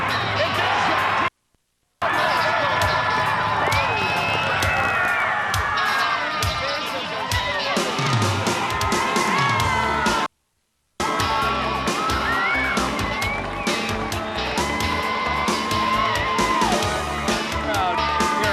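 A crowd at a softball game at Softball City cheers and yells loudly, with whoops and a few bangs carrying on nearly throughout, under a commentator's voice and with two short silent breaks.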